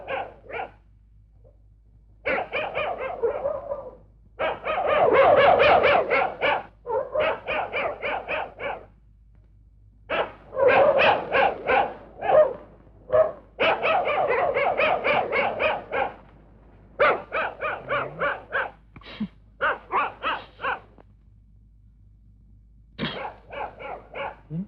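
Dogs barking in repeated bursts and clusters, loud and close, with short pauses of near silence between volleys across the whole stretch.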